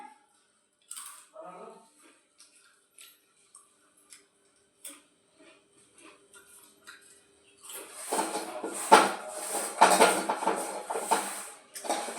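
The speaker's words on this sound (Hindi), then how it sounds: "मुझे देखिए कढ़ाई को मैं साफ कर देती हूँ।" An Indian kadhai, a deep wok, is scrubbed clean in a home kitchen: scattered metallic taps and clinks at first, then a louder stretch of rubbing, scraping and clanking metal, close by.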